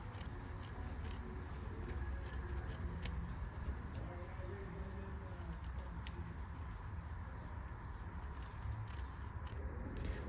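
Scissors snip the corners of fabric while a flap pocket is sewn, giving light, quick cutting clicks close by over a steady soft background hiss, with faint talking underneath.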